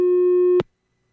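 A telephone busy signal on a radio call-in line, one steady loud electronic tone held for about half a second and then cut off abruptly by a click, followed by silence.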